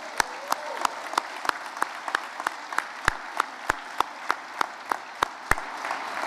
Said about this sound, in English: I want to give a big round of applause to Ms. Sparrow